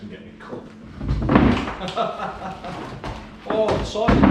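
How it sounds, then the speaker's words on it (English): A loose side panel drops off an old 1983 Mercedes 208D van undergoing restoration, landing with a couple of heavy thuds and a rattling clatter, up close, while people talk over it. "Oh, the side fell off."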